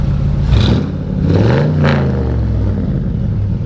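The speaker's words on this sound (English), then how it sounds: "Go ahead and rev it up a little bit." A 1957 Ford Thunderbird fitted with a Corvette LS engine and running gear is revved up close, with a couple of loud throttle blips rising and falling over a rumbling idle.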